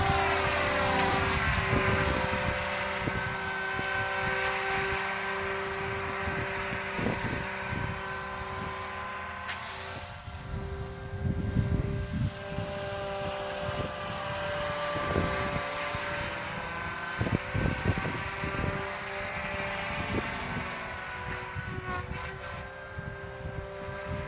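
An HK-500 radio-controlled model helicopter flies circuits outdoors. Its high, steady rotor and motor whine holds throughout, swelling and fading slightly as it passes, with no one talking.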